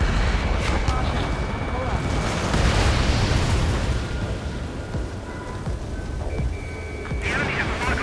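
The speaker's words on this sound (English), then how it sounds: "Missile launched." A loud sustained roar and rumble from a missile launch during aerial combat in Ace Combat 7, with an A-10 on screen, continuous and close, with radio voices talking over it.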